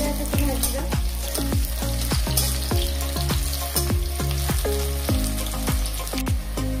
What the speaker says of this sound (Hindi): प्याज एमती ब्राउन कलर भाजा